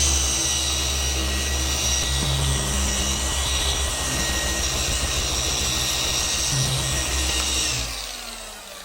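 A machine polisher with a 6-inch pad works a scratched, hologram-marked spoiler on a Porsche Cayman GTS, its loud, steady motor whine holding close and constant, then winding down near the end.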